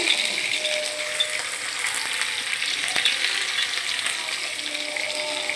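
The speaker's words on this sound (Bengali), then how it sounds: "এখন আমি বেগুনটা ভেজে নিচ্ছি।" Eggplant fries in a pan with a steady, close sizzle and crackle of hot oil, occasional soft stirring scrapes and no talking.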